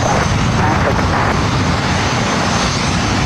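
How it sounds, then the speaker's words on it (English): A NetJets Bombardier Challenger 350 business jet at LAX gives a loud, steady engine roar, broadband and unbroken throughout, with no pauses. "This NetJets Flight 792 Bombardier Challenger 350."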